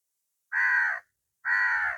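A crow caws twice in a garden in Jaffna, two loud, harsh, evenly spaced calls, each about half a second long, with silence around them.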